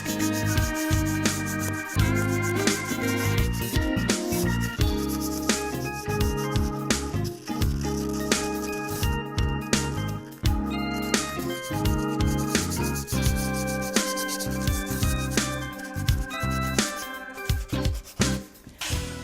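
Sandpaper is worked over a wooden chair in close, steady rubbing strokes that repeat in an even rhythm without a break, with no talk.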